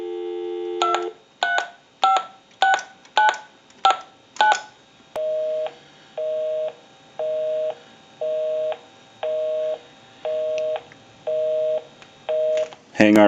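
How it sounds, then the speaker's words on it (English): An AT&T single-slot payphone, repaired and converted, dials a number with a quick run of crisp touch-tone beeps, then a steady busy signal pulses in even on-off bursts, clear and close, with no talk. "We'll call my number and it'll be busy."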